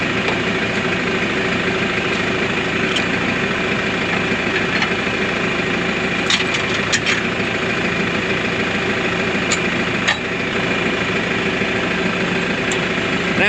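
A tractor engine idles steadily throughout, a constant low rumbling drone with faint clicks and rattles, no voices.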